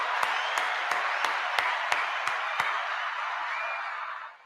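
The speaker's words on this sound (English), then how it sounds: "Round of applause for the Pooh Bear." Applause at a sports media podcast gathering for SEC Media Days, a dense, steady wash of clapping with a few sharp louder claps standing out at regular intervals, fading away at the end.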